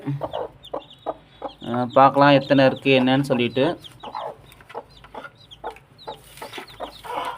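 A black-speckled hen clucking loudly up close in a burst of repeated calls, followed by someone speaking amid softer clucks.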